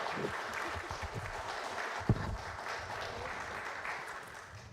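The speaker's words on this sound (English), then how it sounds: "We give a big applause to Aki for this great presentation." An audience at a conference on sustainable mobility gives a round of applause after a talk, a moderate, even patter of clapping from a modest room that continues at steady level for several seconds.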